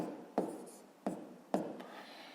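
A pen writing numbers on paper during a fifth-grade maths exercise: three quick, close scratchy strokes, each a sharp tap trailing into a soft scrape, spaced about half a second apart.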